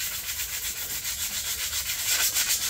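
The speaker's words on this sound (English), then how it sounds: "Start sanding these down. I'm going for quite a rough grit, 80 grit on these" Sanding VW T4 van rear light surrounds with coarse 80 grit paper: a steady, rhythmic back-and-forth rasping scrape, close and fairly loud, growing slightly stronger toward the end.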